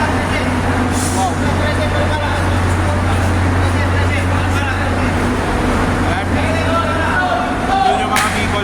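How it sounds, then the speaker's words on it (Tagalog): Bicol provincial buses idle and move at the busy PITX bus terminal in Parañaque City, with a steady engine rumble, passing traffic and a faint air-brake hiss. Voices can be heard in the background throughout. "Yun yung mga Bicol buses."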